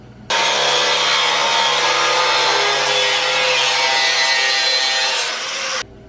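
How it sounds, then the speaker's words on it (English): Cutoff wheel grinding through a metal lip on a Jeep CJ7 engine bay, a steady loud abrasive whine running continuously for about five and a half seconds before cutting off abruptly, with no talking. "so I need to cut my little lip off right there with my cutoff wheel"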